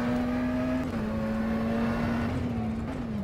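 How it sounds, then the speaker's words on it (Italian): A McLaren Senna GTR race car engine roars steadily in the rFactor 2 sim, a loud sustained drone with slight pitch dips as revs shift, heard alone without talk. "Sentite qua, ragazzi, che rombo, mamma mia, ruggisce questa macchina, impressionante."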